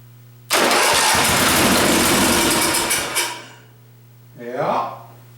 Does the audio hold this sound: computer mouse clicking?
no